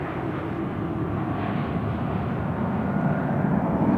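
Space Shuttle Discovery rolling out after touchdown on a runway at Edwards Air Force Base with its drag chute deployed, a loud, steady broadband roar and rumble that holds without a break.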